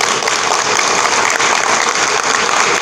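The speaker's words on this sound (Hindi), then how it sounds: "अगर आपको ताली बजानी है तो जोर से बजाइए" Audience at a political rally applauding loudly, a dense, continuous burst of clapping from a large crowd filling the short stretch with no speech over it.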